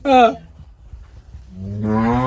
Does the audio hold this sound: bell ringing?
no